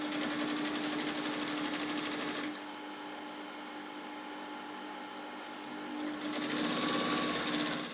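A sewing machine stitching umbrella fabric runs loud and steady, drops to a quieter hum for a few seconds, then speeds back up to its full buzzing whir, with no voices.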